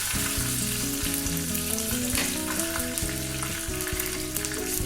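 Loud, steady sizzling of leaves frying in hot oil, a dense crackling hiss throughout with no talking.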